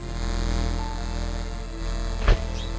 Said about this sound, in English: Now I can hear electricity.